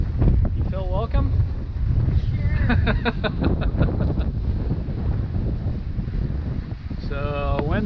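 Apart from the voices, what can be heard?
gusting wind on a sailboat on Lake Michigan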